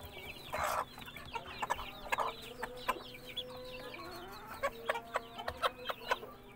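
A hen feeding alongside her two chicks clucks in short, repeated bursts, with sharp chirps and pecking calls scattered through the scene at close range and no talking.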